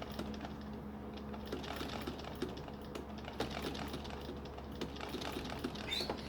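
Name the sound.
sewing machine couching stitches on antique quilt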